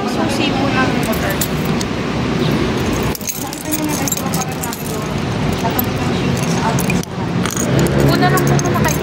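Motorcycle keys jangle close by amid constant traffic and road noise, with people talking throughout.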